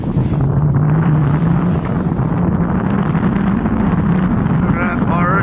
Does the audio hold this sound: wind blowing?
yes